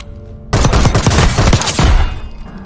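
Rapid-fire gunshots from a weapon in Call of Duty, a loud, dense burst of quick shots lasting about two seconds before trailing off.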